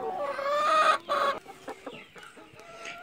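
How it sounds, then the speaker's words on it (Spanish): Hen clucking close by in a backyard coop of creole chickens as she gets ready to lay, a run of throaty clucks and calls, louder at first and then broken into softer, scattered clucks. "Y aquí hay una gallina que ya está a punto de poner huevo."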